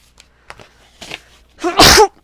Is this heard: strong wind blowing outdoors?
no